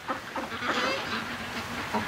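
Ducks raised in a backyard calling as they come home, a quick series of nasal honking quacks close by, overlapping one another in a short burst.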